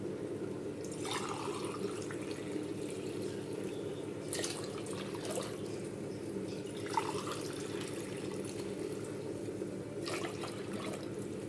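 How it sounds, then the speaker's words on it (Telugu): Water is poured from glasses into a cooking pot for coconut milk pulao, heard as several separate splashing pours at intervals over a low, steady background hum. "ఇంకా 2 గ్లాసెస్ వాటర్ యాడ్ చేస్తున్నానండి."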